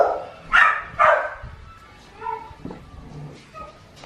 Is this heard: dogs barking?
yes